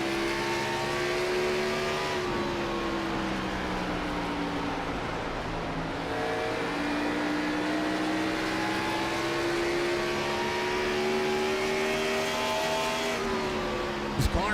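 Race car engines at Richmond revving near the top of their range, a sustained high whine that climbs and drops with gear changes, loud and continuous, with faint voices underneath.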